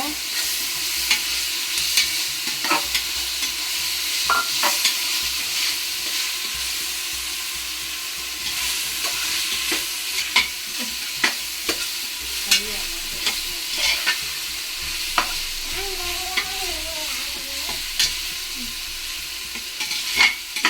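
Ginger garlic paste and onions fry in a pan for mushroom biryani, with a continuous sizzle broken by frequent scraping and clanking of a spoon stirring, plus a few brief sharp knocks.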